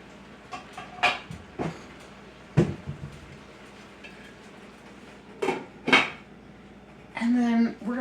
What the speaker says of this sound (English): I'm going to put a lid on it.